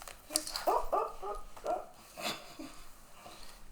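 A dog whimpering and yipping softly in the background, a few short whiny bursts scattered over quiet room noise.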